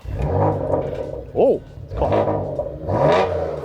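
A GTS sports car with a sports exhaust engaged revs its engine in several sharp bursts, loud and close, with a brief spoken remark between the revs.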